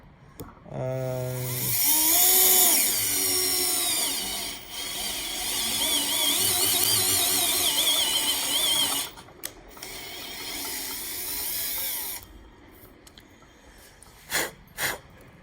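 Bosch GSR 12V-15 cordless drill fitted with a Bosch Expert wood bit boring into wood: a loud, close, high-pitched whine that ramps up and holds for about eight seconds, then a few short bursts and clicks.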